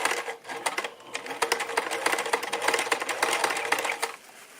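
Sewing machine running a seam along the edge of a Christmas stocking under the presser foot, a fast close mechanical clatter in steady bursts that slows and stops near the end.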